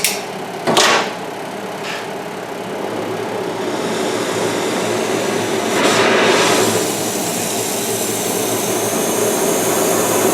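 Propane brazing torch lit to a neutral flame for brazing a brass connecting rod cap, giving a steady close roaring hiss with a brief burst at ignition and a swell midway, over the constant hum of a workshop fume hood.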